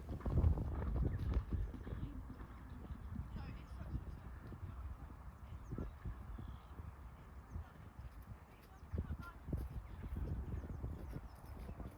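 Hoof clip-clop from an ex-racehorse being ridden at an event, quick rhythmic footfalls close by, with a rider talking over them.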